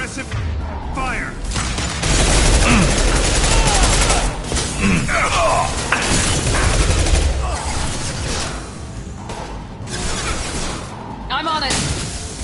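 Suppressive gunfire in Mass Effect 2 on insanity difficulty: dense, continuous bursts of shots and impacts with booms, under urgent squad voices calling out in a loud firefight.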